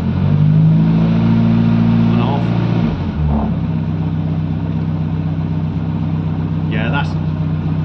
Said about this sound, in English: We're going to start it up and see if we get smooth running.